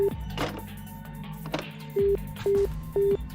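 Three evenly spaced beep tones of telephone dialing sound in the game Virtue's Last Reward, each short and clear, after a stretch of softer clicks and ambient hum.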